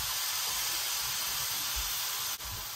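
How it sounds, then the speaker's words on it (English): A roast of meat searing in a pan gives off a steady, even sizzling hiss from start to finish, moderately loud and uninterrupted, with no talking over it. "We're searing it."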